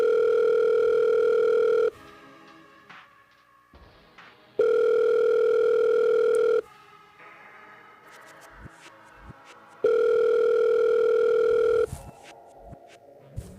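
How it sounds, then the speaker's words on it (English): A telephone call goes unanswered: a steady two-tone dial tone rings in three long bursts, each followed by a couple of seconds of quiet with faint clicks, clear and alone without any voices. "AB, please, can you get BLM on the phone?"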